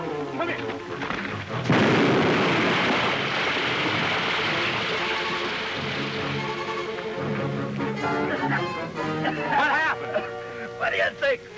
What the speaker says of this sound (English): He found some blasted powder in there and he tried to blow me up.